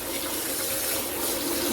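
Tap water gushes steadily into a basin to soak freshly harvested vegetables, a continuous close, full rushing splash with no pauses.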